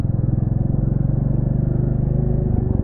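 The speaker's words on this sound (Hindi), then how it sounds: "क्योंकि स्लो रेविंग मोटरसाइकिल है" A new-model 2021 Royal Enfield Classic 350 single-cylinder motorcycle thumps along at a relaxed cruise, its low, even engine pulses close and loud and steady throughout, with no talking.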